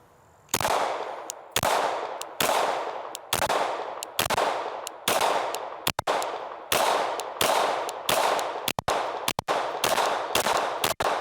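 A Glock 49 pistol fires aluminum case ammunition in a quick string of about eleven sharp, loud gunshots at close range, spaced roughly evenly with brief gaps between them.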